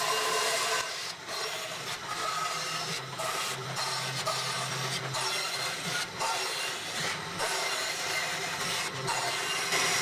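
A bandsaw cuts a series of short relief cuts into American chestnut wood, giving a steady close rasping drone broken by several brief pauses between passes.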